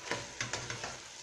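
Vegetables for rice frying in a pan, a quiet continuous sizzle with a few soft stirring scrapes spaced through it, close and low in level, with no speech.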